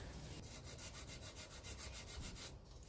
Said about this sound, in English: just very carefully with a little bit of sandpaper sand that back